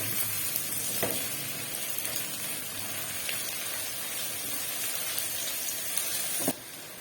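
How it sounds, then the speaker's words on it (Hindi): Garlic and ginger fry in a hot pan with a steady, close sizzle and crackle. One louder clack of a spoon comes partway through, and the sizzle continues alone with no talking. "एक मिनट हो गया लहसुन अदरक को भूनते हुए।"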